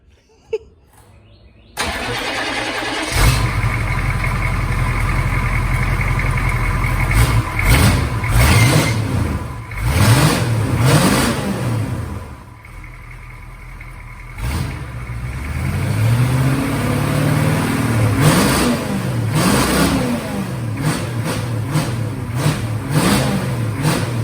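Truck engine revving after exhaust and injection pump work; it starts up, then climbs through several loud revs and lets off again, close and dominant throughout, with no talk.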